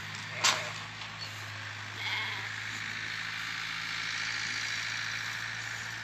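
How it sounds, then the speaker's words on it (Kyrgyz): Sheep eating feed at a livestock sale pen in Osh region's Kara-Suu district, with one short bleat early on over a steady farmyard hum and a low idling engine drone throughout. "Жем жеп турган койлор."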